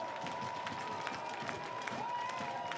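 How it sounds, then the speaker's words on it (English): A baseball crowd at a Portland Pickles versus Corvallis Knights game cheers and applauds, a steady, dense wash of clapping and voices with a sustained tone running underneath. "Listen to this crowd."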